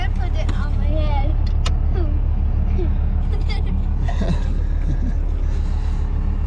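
A GMC truck with a 12-valve Cummins diesel and Borg Warner K27 turbo crawls away at idle, its low, steady engine drone heard from inside the cab under people talking.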